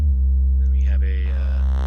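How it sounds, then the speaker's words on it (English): A morphed sine wave from a modular synthesizer patch sounds alone as a steady, loud tone with a strong low fundamental and a faint wavering upper sweep. "is a morphed sine wave, so you can actually mess with the pulse width of it."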